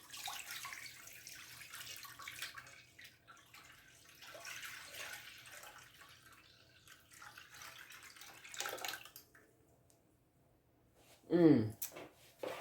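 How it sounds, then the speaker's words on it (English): Broth and a brown gravy mixture are poured into a pot of Louisiana seafood gumbo, making a soft, steady liquid pour that comes and goes under a person talking, with a brief louder splash near the end. "You want to pour your broth and your brown gravy mixture."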